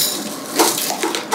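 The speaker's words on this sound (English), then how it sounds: "I'm just going to pour them into the bottom of my jar" Epsom salts pour into a glass jar, a brief granular hiss and rattle with a few sharper ticks as crystals land on the glass bottom, close and moderately loud.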